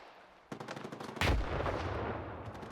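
Gunfire in a post-apocalyptic shooter video game, a burst of shots starting midway and swelling into a loud, sustained volley with a heavy low boom, no talking.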